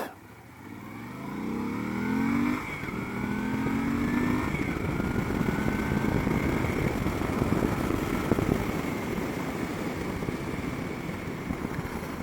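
KTM motorcycle on a commute, revving through rising gears with clear pitch sweeps, then a sustained rough engine drone mixed with wind and road noise while riding.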